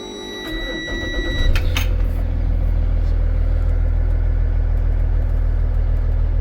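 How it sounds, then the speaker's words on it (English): A bus engine cranks and catches with a brief rise, then settles into a steady, deep diesel idle that rumbles on without a break. "So we're going to go ahead and fire up the bus."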